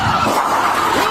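A car's tires skid hard in a road collision, a loud, continuous rough screech filling the whole moment with no voices.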